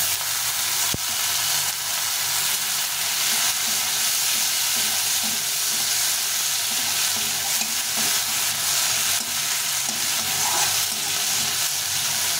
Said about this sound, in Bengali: ছোটো ছোটো করে কেটে নিয়েছি, টমেটোটা দিয়ে দিলাম।